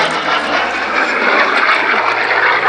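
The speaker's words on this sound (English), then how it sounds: "And if you watch this aircraft looping now, you can see exactly what was meant by that." A Grumman piston-engined US Navy fighter loops overhead at an airshow at Shuttleworth, its engine a loud, continuous, rough drone that stays strong and even across the moment with no talk.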